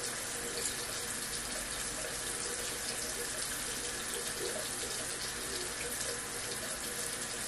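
Tap running into a sink during a morning face-washing routine, a steady, even hiss of flowing water, close and continuous with no one speaking.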